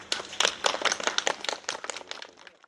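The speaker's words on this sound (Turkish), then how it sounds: "Hadi alkışlayalım." Schoolchildren clap for a police dog demonstration, a quick burst of uneven hand claps that starts strong and thins out and fades over a couple of seconds, fairly close with no talk.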